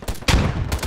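Gunfire from a free-to-play first-person shooter game, a quick close burst of a few loud reports packed into under a second.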